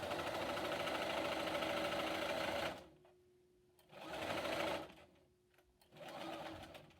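An electric sewing machine runs at a steady fast stitch while sewing a fabric mask, then stops and restarts in two shorter bursts, close and clear with a faint hum between runs.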